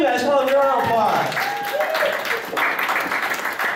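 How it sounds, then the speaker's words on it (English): At an anime convention game show, the crowd claps and cheers for a winner, with voices and whoops riding over the applause. "give her a round of applause"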